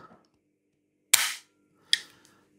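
Two sharp dry-fire trigger clicks from a Huğlu 401A shotgun, close and crisp, spaced about a second apart in an otherwise quiet setting.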